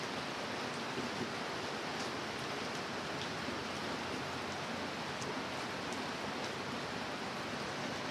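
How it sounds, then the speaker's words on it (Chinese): Heavy rain falls in a steady, dense wash of hiss that holds evenly without a break, close and fairly loud, with no voices. "看这个大雨"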